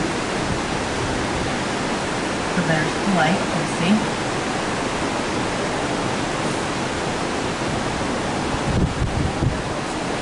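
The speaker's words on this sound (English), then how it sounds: "That's the water being equalized on both sides of the gate." Steady, loud rushing water through an Erie Canal lock gate fills the scene like a constant roar, with someone speaking briefly over it.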